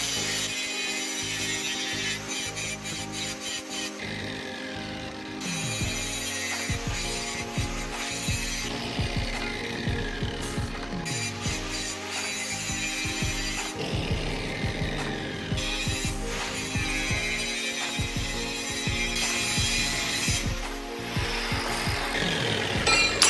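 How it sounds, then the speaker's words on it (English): A forged steel knife blank is ground down, a continuous close abrasive rasping that stops and restarts in several long passes with brief gaps between them. "So now the laborious task of grinding this begins."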